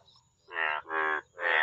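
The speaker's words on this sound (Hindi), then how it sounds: "देखिए, आवाज़ आप सुनिए इनकी।" Yellow frogs croak in the rainy season, three loud, buzzy calls close by with short pauses between them, and no voices over them.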